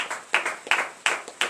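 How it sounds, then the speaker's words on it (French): A congregation at a morning prayer service clapping in a quick, regular rhythm, a few close sharp claps repeating in short bursts, with no one speaking. "Donnez l'acclamation à l'Éternel."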